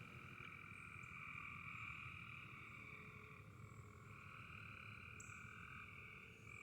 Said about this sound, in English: So those frogs.